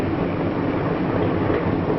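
A 1950s passenger train heard from inside the observation car at its rear, giving a steady, loud, continuous rolling rumble with no breaks.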